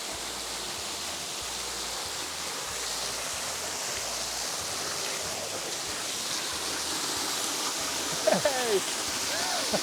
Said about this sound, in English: Dave, you think we should go down and check this waterfall out?